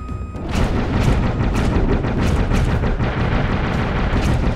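Rapid bursts of weapon fire in Dave the Diver, a dense, loud barrage of booming shots repeating steadily and close, with no talking.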